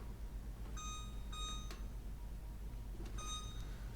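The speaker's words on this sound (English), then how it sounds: "I'm going to set the timer. 30 minutes." A kitchen timer gives a few short electronic beeps in two separate bursts, with steady low background hum underneath.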